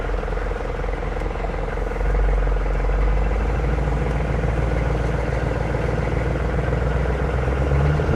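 A Hummer H1 diesel engine running, a steady low rumbling drone with even clatter, close and fairly loud, with no talking.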